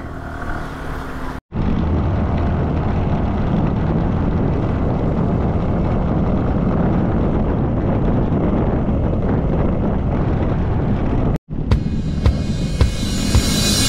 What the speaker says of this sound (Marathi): प्रशांत गाडी दम तोडते का रे थोडी?